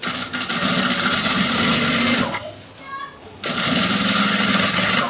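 Sewing machine stitching a children's kapron garment, a loud steady close whir that pauses briefly once and then resumes.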